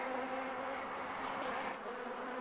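Honeybees buzz steadily in an open hive colony during late-summer inspection, a dense continuous hum close by with no voices.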